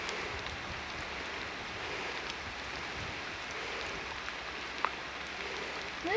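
Steady rain falls in a storm on Maui, Hawaii, a soft continuous hiss of drops at moderate distance with a faint gusty undertone and no voices.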